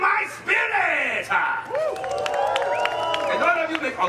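Audience applause and cheering fill a Disney California Adventure show about M'Baku and the Jabari, a steady crowd roar heard under a performer's loud voice throughout.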